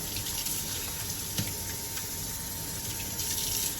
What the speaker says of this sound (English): So I'm going to throw that water out, and then I'm just going to rinse out this.